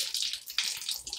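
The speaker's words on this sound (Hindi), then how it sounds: "कितना ठंडा यहाँ पर यह पानी आ रहा है इस नल से" Cold water runs from a tap in a steady, hissing splash that dips and surges briefly, close and fairly loud with no voices.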